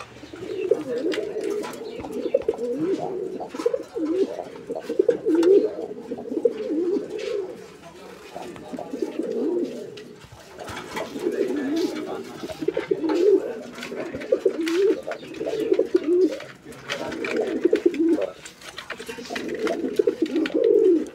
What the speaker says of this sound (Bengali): পারভিন কবুতর না ভাই? হোয়াইট কালারের পারভিন, ডাক তো আপনারা দেখতে পাচ্ছেন